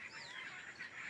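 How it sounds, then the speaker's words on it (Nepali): A flock of birds gathered at a house gives shrill, honking screeches that overlap continuously at moderate distance, with no talking. "यो चिच्याहट सुन्नुभयो त यो चराहरूको"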